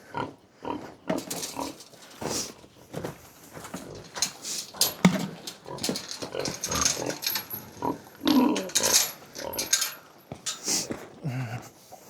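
Five pigs on a snowy farm at feeding time, grunting and oinking close by in repeated bursts, with some talk mixed in.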